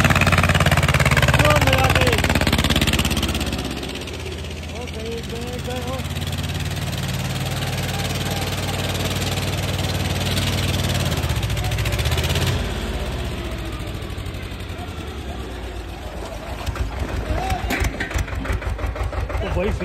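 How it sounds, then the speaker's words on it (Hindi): Small tractors' engines running near Kedarnath temple, a steady mid-pitched rumble throughout with rattly bursts near the end, heard amid crowd noise and people talking. "लो भाई ये छोटे छोटे ट्रैक्टर ना काफ़ी ज़्यादा दिखाई"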